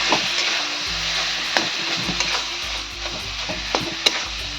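Mashed green jackfruit with green chillies being mixed in a pan with a spatula, steady soft sizzling and scraping with occasional sharper metal taps, close and fairly loud with a low background hum, no talking.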